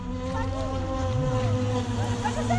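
A Navicraft Rebel 8S RC boat on an 8S setup with a 700 kV motor runs at speed, its electric motor whining steadily over water and wind noise, while someone talks over it.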